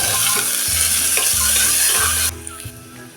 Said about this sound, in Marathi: आता त्यामध्ये टाकणार आहे हा मध्यम साईजचा एक बारीक चिरलेला कांदा कांदा आपण थोडा वेळ परतून घेऊया